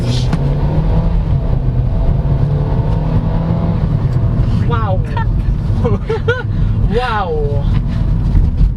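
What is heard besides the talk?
2019 Kia Forte accelerating at full throttle in sport mode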